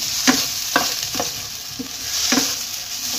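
Crushed ginger, garlic and onion frying in a pan for prawn cutlets, a constant sizzle punctuated by several sharp scrapes of a spatula stirring at an irregular rhythm.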